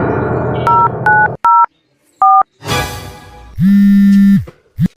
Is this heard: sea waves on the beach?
no